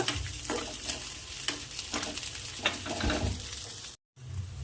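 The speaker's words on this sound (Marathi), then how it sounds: "हे बघा कढई तापाला ठेवलेला आहे आणि एक चम्मच तेल टाकलेलं आहे यामध्ये आपण शेंगा परतून घेऊ" Cluster beans sautéing in a spoonful of hot oil in a kadhai, a continuous close sizzle and crackle with periodic scraping stir strokes, briefly cutting out near the end, no talk.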